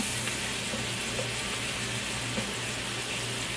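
Shrimp sizzle in a pan over medium heat, a steady, dense hiss that stays even throughout without talking.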